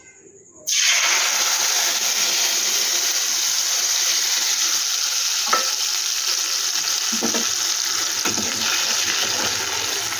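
Ground spice paste dropped into hot oil in a kadai, a sudden loud sizzle that bursts in and holds as continuous close frying, with occasional stirring clinks and no talk.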